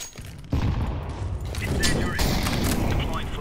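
In a tactical shooter video game, a thrown grenade detonates with a heavy boom, followed by sustained rattling gunfire and crashing debris, loud and close, with scattered sharp shots cutting through.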